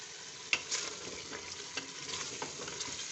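Bhuna gosht meat with green chillies sizzles steadily in a pan, with occasional scraping knocks from stirring; close and fairly quiet, with no voices.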